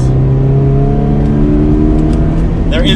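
Subaru BRZ engine revving under acceleration, a loud, close, sustained drone that climbs in pitch, with a faint voice near the end.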